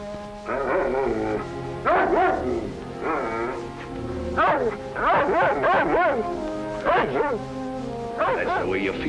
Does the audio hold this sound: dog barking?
yes